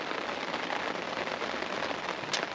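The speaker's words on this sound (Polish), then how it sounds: "Deszcz zaczął padać, zmiana totalna pogody." Steady rain patters densely on a surface by Lynelis Lake in Lithuania, a constant hiss with no pauses, close and fairly loud.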